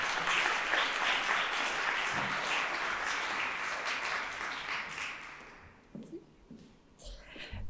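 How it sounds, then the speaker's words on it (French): An audience at an inclusivity month launch evening applauds to welcome a speaker, with dense, steady clapping that fades out toward the end and then gives way to quiet room sounds. "Madame Yamina Meziani, sous vos applaudissements, s'il vous plaît."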